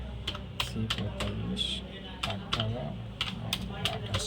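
Number keys tapped on a computer keyboard as a land-status record is looked up, giving a run of sharp, fairly close clicks in an uneven rhythm over a low steady background hum.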